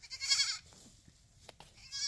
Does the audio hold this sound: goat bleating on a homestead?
yes